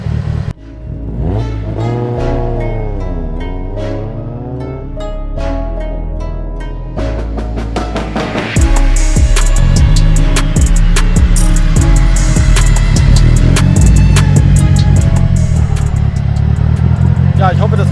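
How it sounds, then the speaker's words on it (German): A tuned Nissan 200SX S14 turbo engine revs and climbs in pitch while the turbo spools, then settles into a louder sustained roar, with the HKS blow-off valve's chatter among the engine noise; a voice talks over the first half. "in Verbindung mit dem HKS-Turbo-Ventil halt auch dieses klassische Geräusch"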